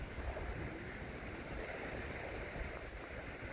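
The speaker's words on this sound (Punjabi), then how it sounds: "ਸਮੁੰਦਰ ਦਾ ਪਾਣੀ ਛੱਲਾ ਮਾਰਦਾ ਹੋਇਆ" Sea water washing against the shore at a beach on the Geelong waterfront in Victoria, Australia: a steady, continuous rush of surf blended with wind, with no voices.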